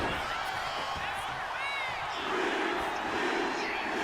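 A roaring wrestling arena crowd in the video game WWE 2K26 cheers and whoops continuously, a dense wash of excited voices with a swell of louder shouting toward the end.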